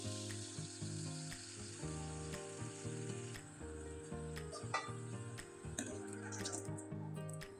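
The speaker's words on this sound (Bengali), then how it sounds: "এই পিঠাগুলো একবারে মুচমুচে করেই ভেজে নিলাম, তাহলে খেতে ভালো লাগবে।" Rice flour pitha fry until crisp in hot oil, a steady dense sizzle broken by sharp pops and crackles, close and unbroken, with no voices.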